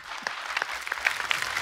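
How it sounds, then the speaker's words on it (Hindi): A studio audience claps for Remo on a Hindi comedy show, a brief dense burst of applause from a crowd, steady and fairly close with no speech on top. "रेमो सर के लिए जोरदार ताली हो जाए।"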